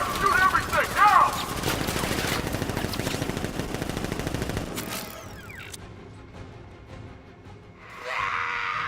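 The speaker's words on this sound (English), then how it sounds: "Guns! Open fire! Shoot everything!" Rapid automatic gunfire rattles in a dense burst in Batman: Arkham Knight, then fades into a quieter game ambience with a distant whoosh at the end.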